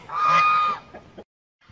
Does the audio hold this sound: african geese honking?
yes